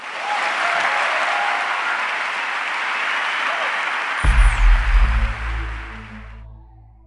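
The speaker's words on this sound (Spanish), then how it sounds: "¿Le pueden dar un aplauso al Padre?" A youth congress congregation applauds the priest after a sermon and prayer, a broad, sustained roar of many clapping hands; partway through, deep sustained music tones enter beneath it before the clapping fades out.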